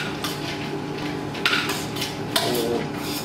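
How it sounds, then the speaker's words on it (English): Apple and pear pieces with almonds are stirred through whiskey in a bowl for mince pie filling, giving soft scraping and a few sharper clinks of spoon on bowl at a moderate, close distance with no talk. "I'm just mixing through all that whiskey"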